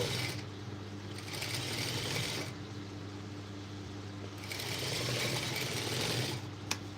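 A sewing machine stitches a single layer of blouse fabric, running in steady whirring bursts with brief pauses between, close and clear with no talking.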